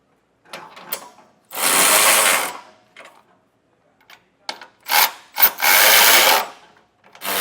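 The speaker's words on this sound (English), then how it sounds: "Now we'll tighten our hardware down with a 19mm socket." Ratchet with a 19mm socket tightening bolts on a Curt Class III trailer hitch on a 2025 Toyota, heard as several close, loud bursts of rapid clicking separated by brief pauses.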